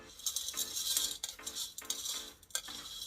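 LECA clay balls being lightly mixed into potting mix for an Adansonii, a light rattling clatter of hard pellets shifting and clinking in repeated soft strokes, close and without talk.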